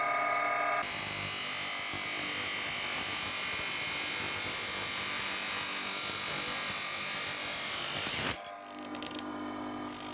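A power tool cuts through the thin steel handle of a kitchen spatula with a steady, loud high-pitched grinding whine that runs continuously for about seven seconds, then stops abruptly.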